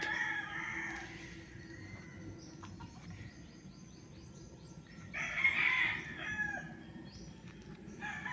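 A rooster crows on a farm property, its calls carrying from some distance over a steady low hum of outdoor background noise, with a clearer crow about midway.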